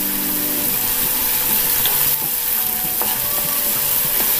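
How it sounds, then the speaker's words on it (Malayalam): Capsicum masala with salt sautéed in a pan, a steady close sizzle with scraping stir strokes throughout, no voices. "ഒന്ന് വഴറ്റി കൊടുക്കാം."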